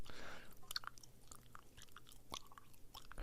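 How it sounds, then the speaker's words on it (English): Gum being chewed close to the mic: soft, wet mouth clicks and smacks repeating at an irregular pace over quiet room noise, with no talking. "I'm chewing gum."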